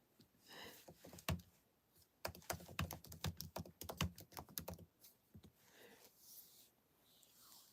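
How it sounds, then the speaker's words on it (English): Rapid keystrokes clatter on a computer keyboard in quick, uneven bursts, with a dense flurry in the middle, recorded close but quietly. "I'll type it."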